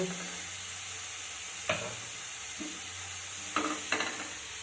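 Beet greens cooking in a pan get stirred, with a few distinct scraping strokes of a utensil over a soft, steady sizzle, close and without talk.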